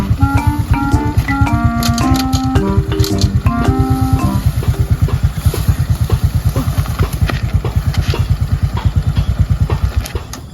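Close motorcycle engine idling with a steady, rapid putter that continues throughout, while higher tones and clicks overlap during the first few seconds.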